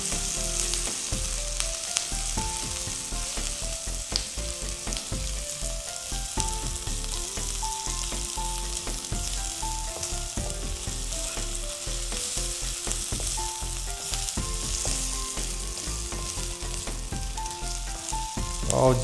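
Chopped onions with ginger garlic paste sizzle steadily in a pan for egg bread masala, a dense continuous frying hiss with repeated close stirring scrapes throughout.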